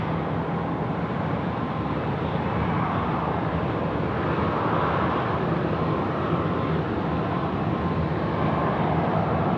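A KC-135 military aircraft departing at Sydney Airport, its engines a constant loud broadband roar holding steady across the whole stretch without pause.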